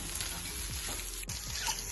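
Vegetable stuffing for a sandwich fries in a pan with salt added, giving a constant close sizzle with a few scraping stirs of a utensil against the pan.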